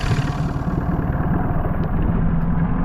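A 1998 Mariner Bigfoot 25hp four-stroke outboard engine runs steadily after starting, with a loud, continuous low rumble and even idling throb and no talk.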